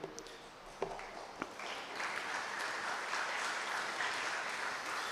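Applause from an audience after a poetry reading begins with a few scattered claps, then swells into steady, sustained clapping that fills the room at a moderate distance.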